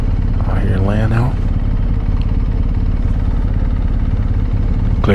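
A 2023 BMW R 1250 GS Adventure motorcycle rumbles loudly and steadily on a dirt ride, its low engine drone constant throughout, with a voice briefly heard over it near the start.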